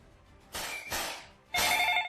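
A telephone bell rings in two bursts, a short double ring and then another starting, loud and close with no talking.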